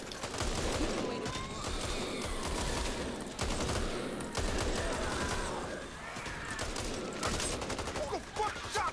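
Gunfire in Back 4 Blood co-op play, with near-constant volleys of rifle shots, some sharp and close, others overlapping in bursts, mixed with voices and game noise throughout.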